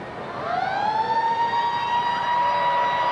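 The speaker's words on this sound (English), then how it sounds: "The siren in the background" A single siren at a 1994 rugby league match at Concord Oval wails up and then holds a steady tone, moderately distant over a broad background roar of crowd.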